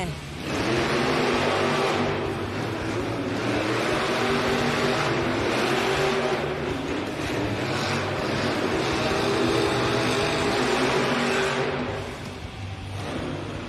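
Monster trucks roar loudly through an indoor arena race at a Monster Jam event in Pittsburgh, with sustained revving engines and a dense crowd wash, and an announcer's voice under the noise.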